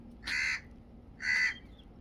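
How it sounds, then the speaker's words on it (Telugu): A crow caws twice, two harsh, evenly spaced calls close by against a quiet outdoor background beside a lake near hills. "ఏ కాకి అరకే కాసేపు."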